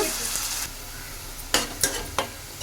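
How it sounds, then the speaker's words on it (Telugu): Onion frying in a pan for a fish curry gives a steady broadband sizzle that drops off partway through, followed by three sharp scrape-like stirring clicks near and fairly loud, with no talking. "మనకి ఉల్లిపాయ అయితే మంచిగా వేగాలండి"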